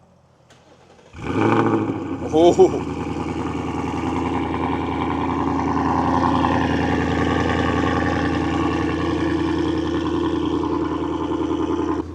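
A Ford Mustang V8 with an aftermarket exhaust cranks and fires up close by, gives a quick rev, then settles into a loud, steady, deep burbling idle that runs on; a brief exclamation is heard early on.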